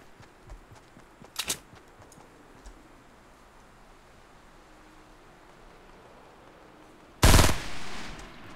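Pistol shots fired in the Fortnite battle royale video game: a pair of quick cracks early on, then a loud, sustained burst of fire near the end over faint background game noise.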